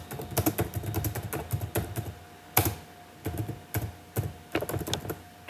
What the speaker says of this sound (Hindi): यहाँ पे मैं कुछ टाइप कर लेता हूँ